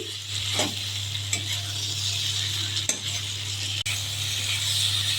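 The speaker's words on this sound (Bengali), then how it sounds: "ভেজে রাখা এঁচোড় আলু দিয়ে দিচ্ছি, কষিয়ে নিচ্ছি।" Fried young jackfruit and potato are stirred in spices in a pan, a steady close sizzle broken by a few scraping and clinking strokes of the spoon, with a low hum running underneath.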